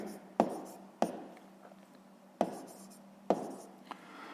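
Pen writing down the answer to a sixth-grade maths exercise, soft scratching broken by four sharp taps, close and quiet over a faint steady hum.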